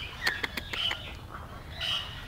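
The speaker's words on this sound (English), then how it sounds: "Birds all over the place" Parrots and a cockatoo in an aviary give short sharp chirps and squawks, a few scattered calls over soft flapping and low background noise.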